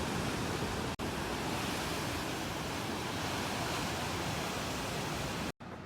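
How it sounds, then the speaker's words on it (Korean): A loud, steady roar of surf fills the air on North Stradbroke Island, Australia, waves crashing continuously nearby on the beach with a couple of brief dropouts, and no voices. "여기 파도가 진짜 장난이 아니에요"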